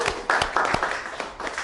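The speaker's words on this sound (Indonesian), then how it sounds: "tepuk tangan" Applause in a university sociology classroom for a student: a short burst of several people clapping nearby, uneven and brisk, tapering off after about a second and a half.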